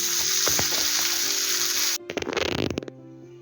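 Halwa (pomfret) fish fries on a hot griddle with a steady, loud oily sizzle, then a sharper crackling burst near the end before it settles back down.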